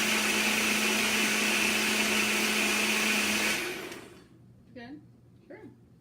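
A blender whirs loudly and continuously while mixing a drink with ice, then cuts off abruptly, leaving a quiet room where a couple of short voice sounds follow.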